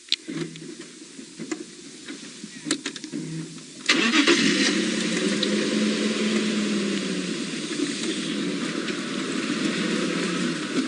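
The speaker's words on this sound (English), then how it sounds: "I'll see if I can switch my vehicle on so you can hear me." A safari vehicle's engine turns over and catches at about four seconds, then settles into a steady, loud idle rumble that continues to the end; faint clicks precede it.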